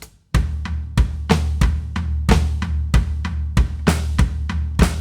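A four-on-the-floor drum groove with the right hand moved down to the floor tom, steady loud hits roughly three per second that blur into a low rumble, played alone up close.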